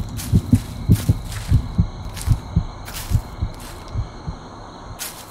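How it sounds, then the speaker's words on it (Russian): A heartbeat thumps in the horror game The Cursed Forest, steady paired low beats repeating about twice a second, loud and close over a faint ambient hum, with no one talking. "Сердцебиение нам уже периодически как бы намекает"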